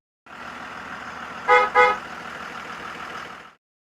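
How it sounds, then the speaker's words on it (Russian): Bus horn sounding two short, loud honks in quick succession over the low steady hum of a nearby idling engine. "Автобус."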